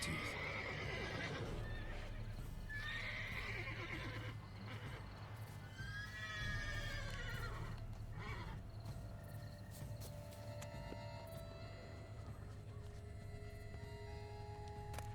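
A horse in the video game The Witcher 3: Wild Hunt, Blood and Wine, whinnies with a long wavering neigh, followed by clip-clopping hooves over a steady low game hum.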